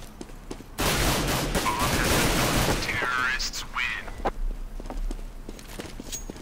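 Counter-Strike gunfire on de_dust2 erupts in a loud sustained burst of shots, then scattered single shots and footsteps, with a commentator talking over it.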